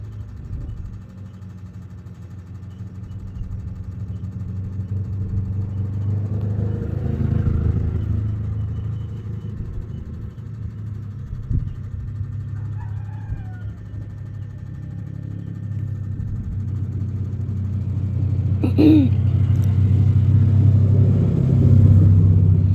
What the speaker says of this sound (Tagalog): Daghang kay mga motor nangagi anak.